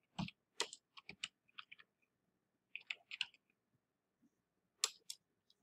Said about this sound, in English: just keep pressing spacebar for more options